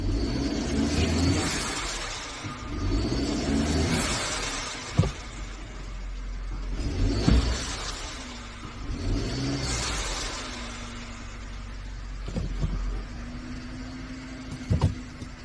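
A 2013 Mercedes-Benz C250 engine with a check engine light (P0302) revs and surges in repeated waves under power braking, loud and close, with a few sharp clicks between the rises.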